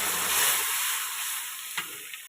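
Tomato goes into hot oil and fries with a bright, close sizzle that gradually softens, ending with a brief clatter.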